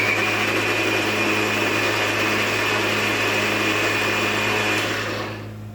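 A blender whirs steadily as it purees tomatoes into juice, a loud continuous motor drone with a high whine that runs alone for several seconds before spinning down at the end.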